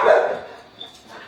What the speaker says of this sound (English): my dogs are just barking at the neighbors